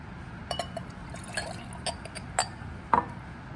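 Potassium iodide solutions poured together in a lab glassware setup, giving a few faint glassy clinks and small liquid splashes scattered over a quiet background, the last one louder.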